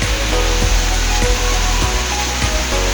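Steady, loud rushing water at Anjuzhi Waterfalls, a dense continuous roar with no pauses and no voices.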